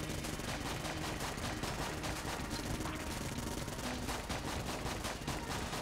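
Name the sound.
gunfire from the video game Enter the Gungeon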